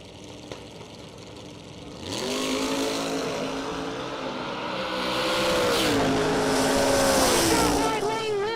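A Ford Mustang launches down the right lane at a drag racing event, its engine note climbing through several sharp revving rises as it pulls away, loud and sustained, with other race noise around it.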